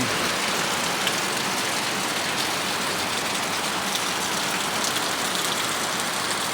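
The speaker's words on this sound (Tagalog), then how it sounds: "Grabe, lakas ng ulan." Heavy rain pours down steadily, a dense loud hiss of drops hitting surfaces with no letup.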